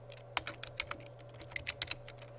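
Steady keystrokes on a computer keyboard while a business letter is typed in Microsoft Word 2007, heard as a run of close, crisp clicks in uneven bursts over a low constant hum, with no talking.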